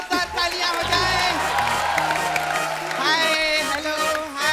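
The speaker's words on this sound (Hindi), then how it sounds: "विमेन क्रिकेट टीम के लिए एक बार जोरदार तालियां हो जाए" A studio audience at The Kapil Sharma Show comedy taping cheers and applauds for the women's cricket team, a loud sustained roar of clapping and whooping throughout.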